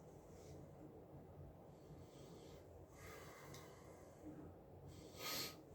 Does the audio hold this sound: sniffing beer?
yes